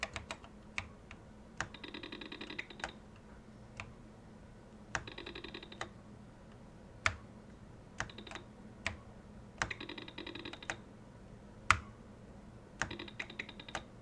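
Typing on an Apple IIe keyboard, bursts of crisp, fairly quiet keystrokes alternating with sharper single clacks and short pauses, with no voices.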